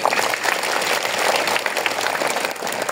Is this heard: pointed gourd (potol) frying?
no